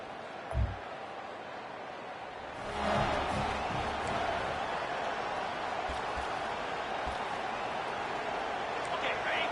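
Stadium crowd noise from the EA Sports College Football video game, a steady broad roar that swells louder after the first few seconds and holds as continuous background, with a brief low thump near the start.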